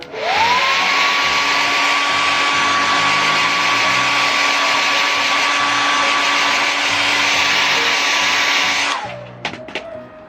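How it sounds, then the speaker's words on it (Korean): A hair dryer blows with a loud, steady whine for several seconds, then cuts off, followed by a few light clicks and handling sounds. "머리 말릴 때 뭐 이거 드라이기로 이렇게 좀 세워가지고 말리면"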